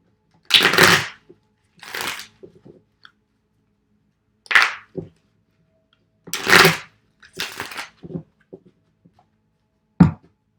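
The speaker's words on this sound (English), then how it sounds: "I shuffle until they tell me to stop." Tarot cards are shuffled in short, crisp riffling bursts, about six separate flurries with silent gaps between them, close and clear with no talking.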